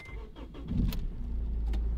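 A car bought at auction starts up, a brief cranking whir settling into a steady close idle rumble with no talk over it.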